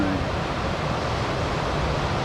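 Ocean surf rolls in at the shore as a steady, broad wash of breaking waves, loud and continuous with a faint hiss of wind over it and no clear pauses.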